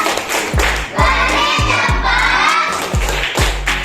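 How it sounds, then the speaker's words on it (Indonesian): A classroom of schoolchildren claps out a quick rhythmic 'tepuk hebat' cheer, the sharp, close hand-claps falling in a set pattern with heavy thuds, while young voices chant along. "Mari kita beri tepuk hebat"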